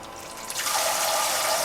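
A small water pump lowered into a portable bathtub filled with water, a close, loud rushing and bubbling gush that swells and holds steady.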